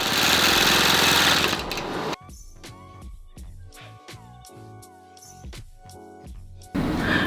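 A longarm quilting machine stitches a heart-pattern quilt with a rapid mechanical whir, and loud broadband bursts at the start and end frame a quieter middle stretch.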